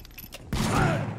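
A burst of gunfire in the video game Vampyr, a sudden loud shot with a rolling tail after a short quieter lead-in.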